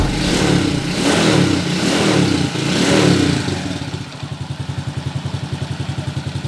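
A Suzuki Raider J115 Fi motorcycle engine revs loudly up close in three rising surges, then drops back to a fast, even idle with rhythmic putters, and no voices are heard.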